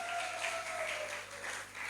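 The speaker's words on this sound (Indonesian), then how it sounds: "beri sorak-sorai, yang panjang" A church congregation in Medan cheering and applauding during a worship service, a steady wash of clapping with a faint voice calling out underneath, fairly quiet and distant.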